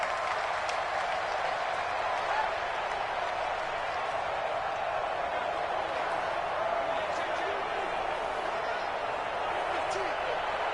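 Stadium crowd at an NFL football game, a steady, far-off wash of cheering and roar that fills the whole stretch at an even level, with a commentator talking over it.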